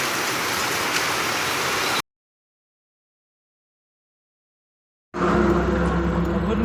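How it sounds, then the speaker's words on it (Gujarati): Heavy rain falling in Ahmedabad while on the road by truck, heard as a dense, steady wash of rainfall. A silent gap breaks it midway, then a louder rush of rain returns. "જો તમે ઝપાટી બોલાવે વરસાદ અત્યારે"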